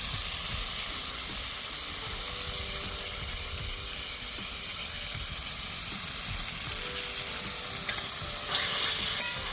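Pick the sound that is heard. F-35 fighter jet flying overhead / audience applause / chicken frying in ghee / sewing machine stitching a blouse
chicken frying in ghee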